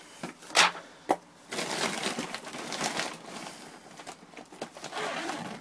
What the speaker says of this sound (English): we open the zipper